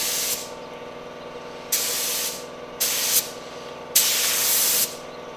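Paint sprayer hissing as it sprays paint onto a skoolie bus ceiling, four separate bursts of close, sharp spray hiss separated by short pauses, running low on paint near the end.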